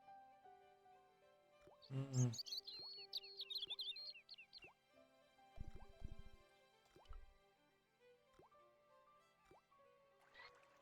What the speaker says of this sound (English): The faucet creaked, coughed and spewed out a stream of rusty-colored water.